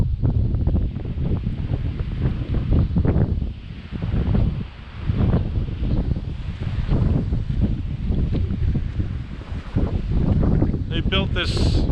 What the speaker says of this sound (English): There's a little bit of a wind. You probably can hear that in the microphone.